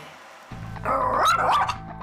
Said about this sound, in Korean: 갑자기 짖어대는 잭슨.